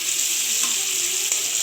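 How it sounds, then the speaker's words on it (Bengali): Shrimp frying in oil for a Bengali oil-shrimp dish, giving a loud, steady, close sizzle that goes on without a break and with no talking. "এটা হলো চিংড়ি তেল। ভালোভাবে লাল লাল করে ভেজে নেব"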